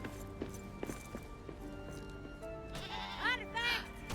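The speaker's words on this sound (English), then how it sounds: "A goat in the middle of this place called the Deeps is just par for the course down in Moria" Goat bleating in the Lord of the Rings: Return to Moria video game, a couple of wavering bleats near the end, heard over game background noise and some clip-clopping.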